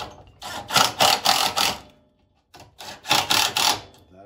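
Nuts being tightened while propane conversion parts are mounted on a Duromax XP13000EH generator, two bursts of rapid rhythmic ratcheting clicks separated by a brief pause, close and fairly loud.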